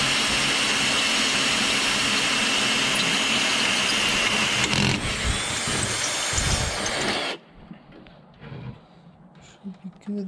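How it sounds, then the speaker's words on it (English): A power drill whines loudly and steadily for several seconds drilling bolt holes for an off-road radiator relocation mount, then stops, leaving quiet scrapes and knocks. "drilling our holes for the bolts to go through to secure this thing down"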